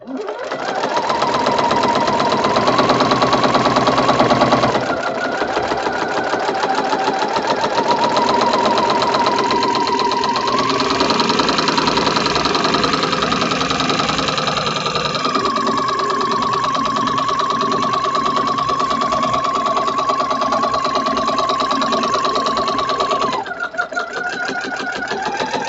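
A sewing machine runs continuously, stitching a scrap-fabric French rose on a quilt in pink thread a quarter inch along earlier stitching, a loud close rapid whirring hum with brief changes in speed and pauses.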